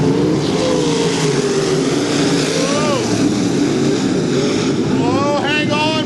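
Dirt-track race cars in a UMP event at I-55 Raceway roar together in a steady loud engine drone, with rising and falling revs as they run three wide, while a commentator talks over the action.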